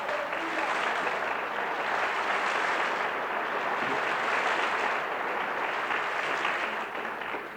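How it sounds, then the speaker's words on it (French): A church audience applauds in a dense, even wash of clapping that stays loud and steady throughout, with no voices over it. "laissez tomber les applaudissements"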